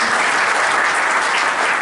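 An audience at a public event in Bihar claps to welcome a guest, a dense, loud, steady wash of applause with no break and no talk over it.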